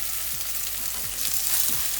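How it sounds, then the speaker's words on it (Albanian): Chicken fillets sizzling in a frying pan, a continuous close hiss of hot oil with a few soft low knocks, no voices. "Fileta e pulës anës është skuqur dhe rrotullojmë"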